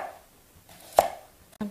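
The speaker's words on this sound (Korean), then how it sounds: "조금 도톰하게 채 썰어줄게요." A knife cuts carrots into thick julienne strips on a cutting board for gochugaeri kimchi, with two sharp chops heard close up in a quiet kitchen.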